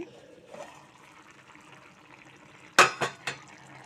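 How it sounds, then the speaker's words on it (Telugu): Broad bean and tomato curry simmering in a pan: a faint, soft bubbling hiss, then a few close scraping knocks of a ladle against the pan, with no voices. "బాగా చక్కగా ఉడుకుతుంది కూర అయితే నీళ్ళన్నీ ఎగిరిపోయాయండి"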